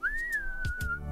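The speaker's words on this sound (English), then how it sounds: "Let me whistle." A person whistles a single sustained, slightly wavering tone live on a radio show, clear and close, with a couple of brief breathy bumps behind it.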